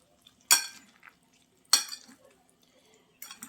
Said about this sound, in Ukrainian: Так, трошки помішаємо.